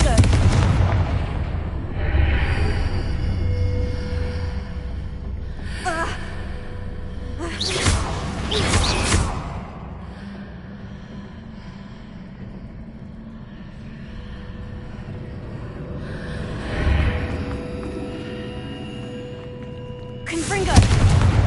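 Confringo fire spells blast repeatedly in the video game Hogwarts Legacy: several loud, rushing bursts strike several seconds apart over a steady low rumble of battle ambience.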